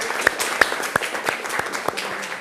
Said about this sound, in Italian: Buonasera ragazzi, un applauso per voi